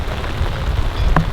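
Steady rain falling, a dense, loud patter close by that fills the whole stretch, with a brief higher tap near the end.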